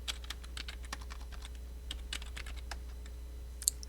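Computer keyboard typing and key clicks, a quick irregular run of light, close keystrokes at low volume, with one sharper click near the end.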